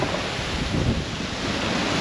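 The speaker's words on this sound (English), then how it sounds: "the waves have been battering the cliffs" Rough North Sea surf pounds the cliffs at Aldborough on the Holderness coast, a steady loud wash of breaking waves mixed with wind buffeting the microphone, no voices.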